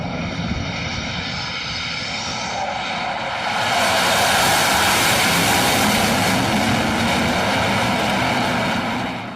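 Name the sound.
Su-33 jet aborting its landing on an aircraft carrier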